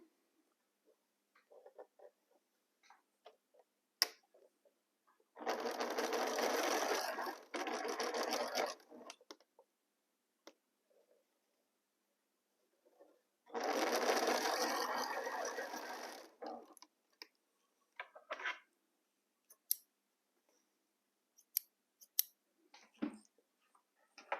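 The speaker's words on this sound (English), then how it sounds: "So I need to nest the seams here and start sewing." A sewing machine stitches the seams of a quilt block in two steady bursts of rapid mechanical whirring, separated by quiet stretches with light handling clicks.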